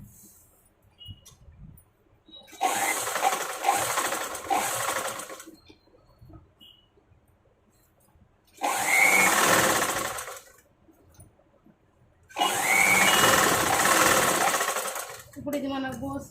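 Three bursts of a sewing machine stitching a blouse neck whir loudly and rapidly, separated by quiet pauses in which faint handling sounds can be heard.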